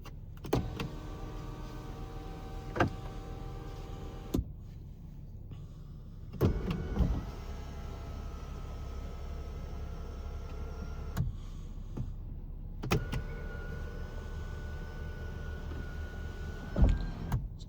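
A 2026 BMW M440i's sunroof runs on its electric motor in three steady whirring spells, each lasting a few seconds and closing with a soft clunk, with quiet gaps between them inside the cabin.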